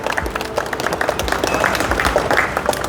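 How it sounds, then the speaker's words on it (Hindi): Guests at a family party celebrating a child's military school admission clap in welcome, a steady moderate round of applause with a few voices mixed in. "एक बार तालियों से स्वागत होना चाहिए इनका"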